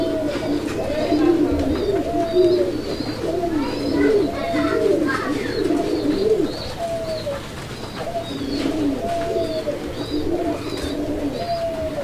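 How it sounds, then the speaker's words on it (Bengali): A pair of Bombay pigeons coo in repeated rolling phrases close by, joined by other birds chirping faintly in the background, with no talk. "বোম্বাই এই জোড়াটি কিন্তু প্রচুর ডাকাডাকি করতেছে"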